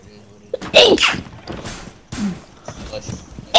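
A sneeze bursts out during an online ranked game session, followed by further nasal bursts and scattered noises, with people talking around it.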